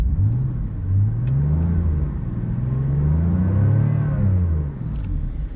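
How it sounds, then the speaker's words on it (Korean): A 2018 BMW M4 engine revs up and down in rising and falling sweeps, a deep exhaust growl from nearby that swells and eases several times. "한번 악셀을 밟아 보면 배기음 자체가 아예 다릅니다"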